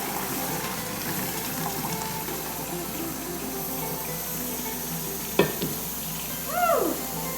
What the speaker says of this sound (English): I'm just going to strain it into a strainer